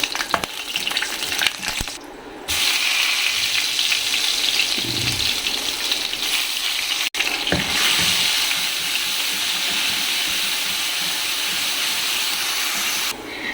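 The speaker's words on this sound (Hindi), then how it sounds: "इनको पहले मैं थोड़ा सा इसके साथ फ्राई करूँगी" Cloves and star anise frying in hot oil for lemon chicken, a loud, continuous close sizzle that swells after a brief lull and runs steadily, with one sharp knock partway through.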